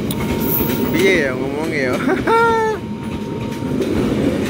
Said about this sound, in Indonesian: Sanjaka dari Jogja ke Surabaya Gubeng ini kereta